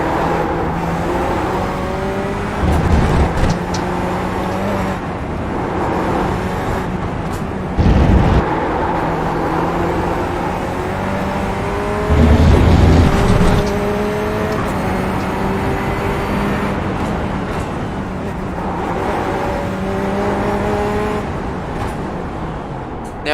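Race car in iRacing, its engine droning and revving through repeated gear changes and throttle swells, with occasional low rumbles and thumps, a continuous loud in-car sound with no talk.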